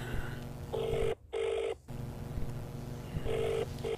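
A telephone rings back after a call is placed, giving repeated ringback bursts over a steady electronic hum, with a short silent gap between the early rings and a final burst near the end.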